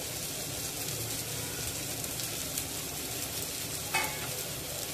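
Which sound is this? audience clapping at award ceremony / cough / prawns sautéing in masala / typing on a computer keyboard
prawns sautéing in masala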